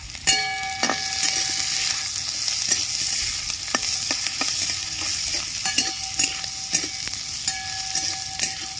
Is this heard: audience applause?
no